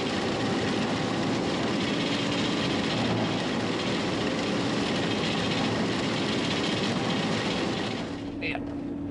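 A farm vehicle crosses a field during the soybean harvest, its engine droning loud and constant from the cab, with a brief rattle near the end.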